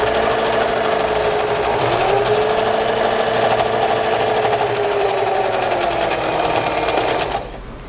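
Sewing machine stitching a fabric notebook cover: a steady, close, continuous whirring hum that runs unbroken for several seconds and cuts off abruptly near the end.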